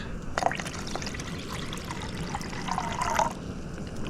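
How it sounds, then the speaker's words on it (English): Meltwater from snow pouring and trickling into a container at a solo winter campsite in deep cold, a steady close liquid stream with brief splashy bursts, no talking. "Melting some snow here to add to the little bit of water I actually have left."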